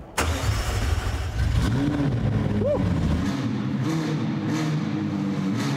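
A $3 million McLaren sports car fires up with a sharp starter crank, then settles into a loud, steady engine drone with a couple of quick revs rising and falling, close by, with brief speech near the start.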